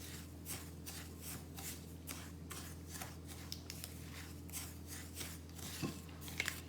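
Oats and Himalayan salt stirred together in a bowl for a homemade oat and honey scrub, giving soft gritty scraping and rustling strokes in a quick, uneven rhythm, close and quiet, with no talking.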